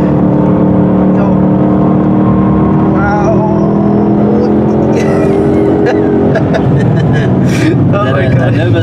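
A supercharged 700-horsepower Roush Mustang accelerating on a race track, with a loud, sustained engine roar that climbs in pitch from inside the car while people talk over it.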